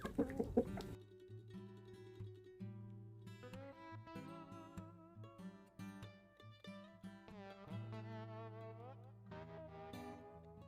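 Roosters, one small and one large, cluck on a farm homestead in short repeated calls. Steady tonal sounds run beneath them throughout.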